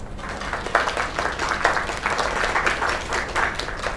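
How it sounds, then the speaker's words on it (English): An audience gives a round of applause, with dense, continuous clapping at moderate loudness that swells slightly in pulses and carries no talk. "Another round of applause."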